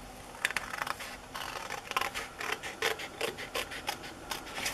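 Scissors trim the paper page of a Little Golden Book, a run of close, crisp snipping and rustling cuts in an uneven rhythm with no talk.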